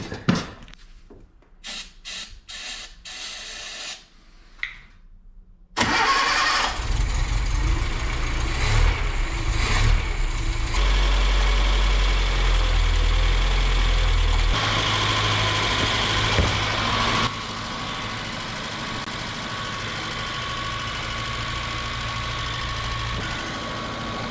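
A 1977 Datsun B210 with a carburetor sits silent through a few faint clicks, then its engine fires about six seconds in and settles into a steady, loud idle that carries on to the end.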